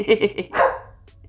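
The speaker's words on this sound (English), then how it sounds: "I'm so sorry about my dog barking." A dog barks nearby in a quick burst of four or five sharp, loud barks, close to the listener and partly overlapping a person's voice.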